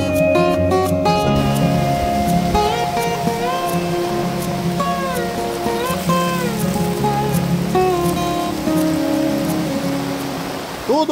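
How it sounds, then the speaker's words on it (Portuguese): Heavy rain pours onto a campsite during a storm by a lagoon, a dense, loud, steady hiss of drops drumming on surfaces throughout, mixed with tonal sounds from other sources. "o vídeo de hoje começando com chuva"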